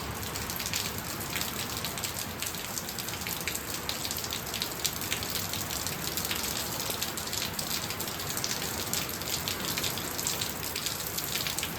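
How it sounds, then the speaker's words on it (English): Steady rain falls and patters on surfaces at a farm, a dense, even hiss of drops with no voices, continuous from start to finish. "I especially love it when it's raining like this"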